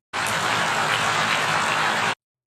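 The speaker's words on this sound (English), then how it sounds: "Round of applause." Round of applause from an audience at a political gathering, a dense burst of clapping that starts abruptly, holds steady at full volume for about two seconds, then cuts off.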